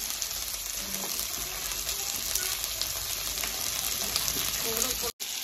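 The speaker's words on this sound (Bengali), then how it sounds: "লাল লাল করে মতো ফুলকপিটা ভাজবো।" Cauliflower florets sizzling as they fry in a pan, a steady dense hiss running throughout with a few faint clinks, cut off by a brief dropout near the end.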